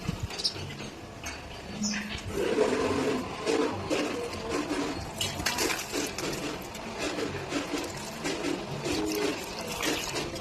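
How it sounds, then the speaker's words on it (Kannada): Water being poured onto garden plants on a hot day, a steady wash of splashing and trickling that runs throughout at moderate level, with faint clinks and background activity alongside. "ಇವಾಗ ಎಲ್ಲ ಗಿಡಗಳಿಗೆ ನೀರು ಹಾಕ್ತಾ ಇದ್ದೀನಿ"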